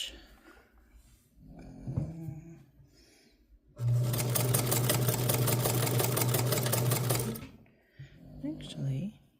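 A Hamilton sewing machine with a stuck selector knob runs a straight stitch in one loud, steady burst of whirring and rapid needle clatter lasting a few seconds, with quieter handling noises and a voice before and after.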